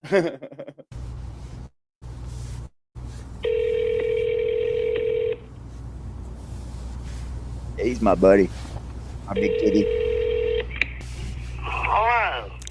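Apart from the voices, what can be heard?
telephone call being dialed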